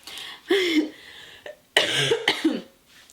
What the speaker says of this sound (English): I've had this cough lingering for like, I don't even know how long.